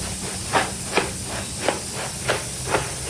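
Spice paste hits hot oil and sizzles in a steady, loud hiss, with sharper spits and pops flaring about twice a second. No one speaks.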